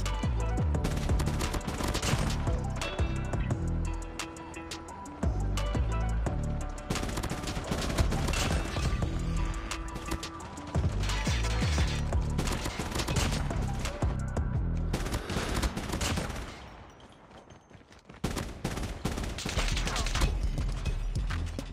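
Rapid assault rifle fire in the Call of Duty Mobile shooter: dense, loud bursts of gunshots repeating almost nonstop over a steady game backdrop, briefly dropping away near the end.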